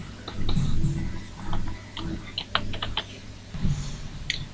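Someone types an email address on a computer keyboard: a quick irregular run of close, crisp key clicks over a steady background hum, with faint voice-like sounds at moments.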